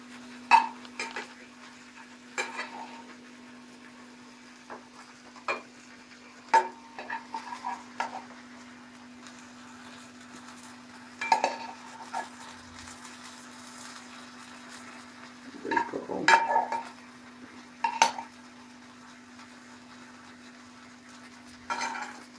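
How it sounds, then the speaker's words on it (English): Cooked vegetables are plated beside a chicken steak with honey vinegar sauce; utensils give sparse light clinks and scrapes on a plate over a faint steady hum, with no talking. "first I'm gonna plate up the veggies"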